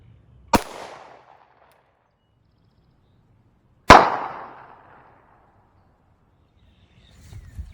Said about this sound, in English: Up next is a 9mm. This is a 115 grain full metal jacket out of the Glock